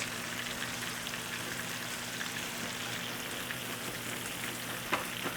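Onions fry in butter in a pan, a soft steady sizzle and crackle throughout with a faint tick near the end, close and fairly quiet, no voices.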